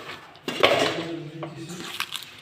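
Rawa puri dough ingredients with sesame seeds, coriander powder, salt, chilli and turmeric being mixed in a bowl, giving close scraping and clinking of a utensil against the dish in a short burst.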